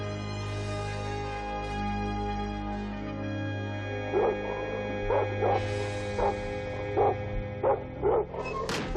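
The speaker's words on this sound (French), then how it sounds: "Les chiens, arrêtez ce boucan!" Dogs in an animated fantasy series bark in a quick, regular series of loud yips and barks, one after another, over a steady low background drone.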